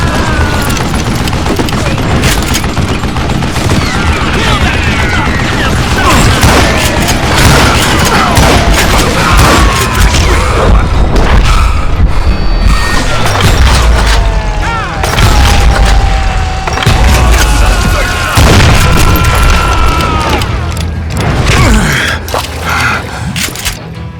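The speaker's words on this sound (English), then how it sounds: "a fusillade of bullets come raining down from our house" A fusillade of gunfire pours down from a house in Call of Juarez Gunslinger, loud booming shots and ricochets layered into a sustained, chaotic volley with scraping debris and occasional gasps.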